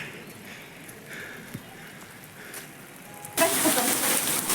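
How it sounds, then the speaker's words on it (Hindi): Rain starting at the Ellora caves: light patter and scattered drops at first, then a sudden swell into a dense, loud, steady downpour hiss close by. "और देखते ही देखते बारिश स्टार्ट हो गई है"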